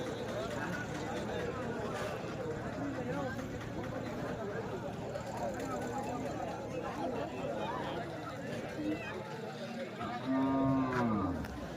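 Cattle low at an outdoor livestock market dealing in native cows and Jersey cows, one drawn-out moo rising clearly near the end above a constant crowded murmur of chatter and talking voices.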